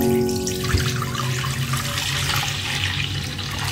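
Coconut milk pours into a pot of Padang beef rendang, a continuous close liquid splashing and gurgling stream that stays steady throughout, with no voices.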